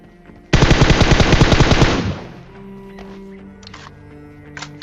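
Automatic gunfire in the video game PUBG Mobile, a loud rapid burst lasting over a second, then fading echoes, a low hum and a few faint clicks afterward.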